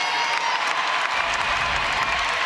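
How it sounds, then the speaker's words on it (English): Steady applause and crowd noise from fans in an arena at a women's college basketball game, Kansas versus Columbia in the 2023 WNIT championship, clapping evenly and continuously for an injured player. "the fans give her a round of applause"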